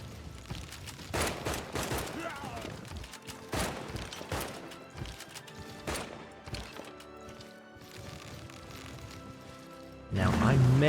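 Units in Civilization VI fire on a rebel in a series of sharp gunfire volleys and bursts, spaced irregularly and mixed with game effects, then a louder burst near the end.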